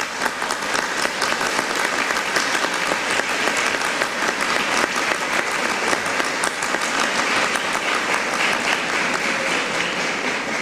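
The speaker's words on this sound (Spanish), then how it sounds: "Reconozcamos su trabajo con un aplauso." Sustained, dense applause from an audience fills a formal judiciary ceremony hall, a continuous even wash of many hands clapping for over ten seconds without pause.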